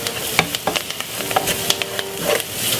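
Jamaican curry chicken seasoning paste with thyme is stirred in a pot, giving close, irregular scraping and wet clicking strokes over a soft sizzle.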